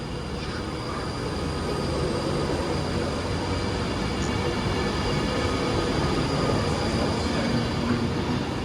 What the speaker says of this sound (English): (390-136) railing off to London Euston